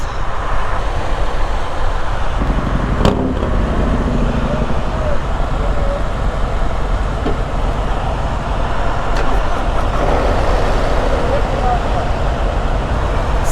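A 2024 Harley-Davidson Street Glide with stock mufflers rumbles steadily at low volume throughout a test ride, blended with wind and road noise and mostly masking its own exhaust note.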